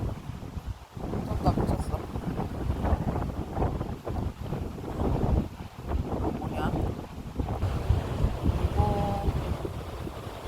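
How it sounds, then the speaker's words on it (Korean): Strong gusty wind buffets the microphone at the seaside on the Gampo coast, a constant heavy low roar with surges, with a person's voice talking faintly underneath. "바람이 진짜 센데요"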